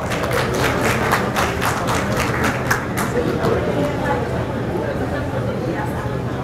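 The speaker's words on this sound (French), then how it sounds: "Cheikh Tidiane Gadio, sous vos applaudissements." Applause welcoming a minister at a book presentation and signing ceremony, a burst of strong clapping at the start that fades into a murmur of crowd noise and chatter.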